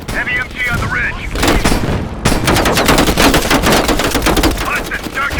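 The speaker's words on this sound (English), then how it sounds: "Heavy MG on the ridge." Heavy machine gun fire in Call of Duty Black Ops Cold War hammers out in loud, rapid sustained bursts, with a short gap before the firing resumes, and voices speak over the shooting.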